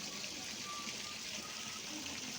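Waste water from a mineral water plant runs steadily along a canal, a continuous low trickling wash with no break, faint and even throughout.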